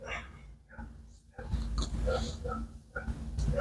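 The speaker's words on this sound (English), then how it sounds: "there may be a a dog outside my window going crazy" A dog barking outside a window, faint and distant: a few scattered bursts heard under a person talking indoors.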